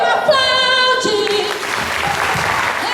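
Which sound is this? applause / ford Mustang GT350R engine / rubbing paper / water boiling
applause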